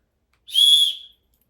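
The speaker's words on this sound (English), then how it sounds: "It actually makes a really loud sound." A metal emergency whistle is blown once in a single loud, shrill, steady blast lasting about half a second, close to the listener and with nothing else audible.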